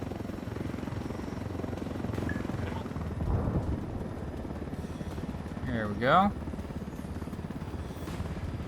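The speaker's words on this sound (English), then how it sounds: "I got a chopper on my ass" A helicopter in the video game Ghost Recon Wildlands chases the player, its steady rotor drone filling the scene with a loud whooshing swell midway while someone speaks briefly.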